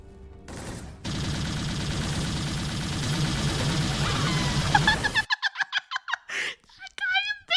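Rapid gunfire from an Xbox shooter video game runs as a dense, sustained burst for several seconds, then breaks into a string of separate short shots with squeaky game effects.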